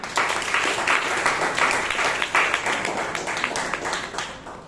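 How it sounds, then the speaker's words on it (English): An audience at a Toastmasters club meeting applauds a speaker and evaluator, a close, full burst of hand clapping that swells and then gradually thins toward the end. "A round of applause for the speaker and the evaluator."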